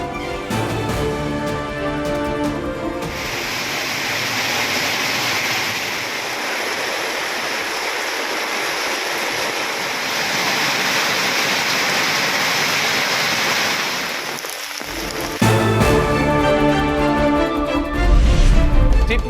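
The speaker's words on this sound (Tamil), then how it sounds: "தொடர் மழையால் வெள்ளக்காடான நாகை மாவட்டம்." Heavy continuous rain and floodwater in Nagapattinam district during a cyclone, a loud steady broadband rush of pouring water filling the whole stretch.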